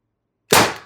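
A single sharp, loud report from a TR50 HPA airgun running without a restrictor in the handle, firing a 12.7mm ball bearing, with a short decaying tail after a moment of silence.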